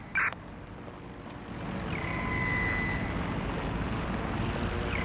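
A drone in the video game Watch Dogs: Legion flies in with a steady, sustained whirring hum that rises after a short click and holds, with a faint tonal whine drifting across it.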